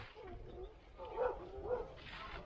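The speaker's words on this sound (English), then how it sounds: "Here come the dogs." Dogs bark in rural Hong Kong countryside, a few muffled, fairly distant barks over a steady low outdoor rumble.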